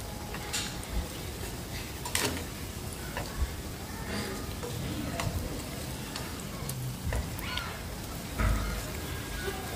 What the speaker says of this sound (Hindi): मीडियम फ्लेम पर अच्छे से हम उलट पुलट करके दोनों साइड आलू पकौड़ी को लाल होने तक अच्छे से तेल में तल लेंगे